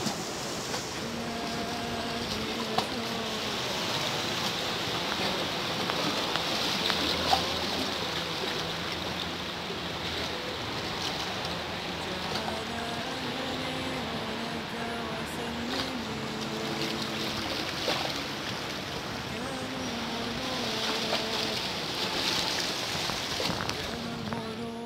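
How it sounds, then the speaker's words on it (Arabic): Sea on the coast at Tarragona, Spain, a continuous washing roar of water that swells and eases across the stretch, with a low steady hum and faint background voices underneath. "دوك الأصوات ديال البحر"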